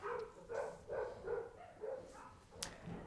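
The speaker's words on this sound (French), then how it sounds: "J'adore quand les chiens aboient lorsque j'essaie de faire une vidéo" Several dogs bark in a steady series of about six or seven barks, moderately distant and fairly quiet, with a sharp brief click near the end and no talking over them.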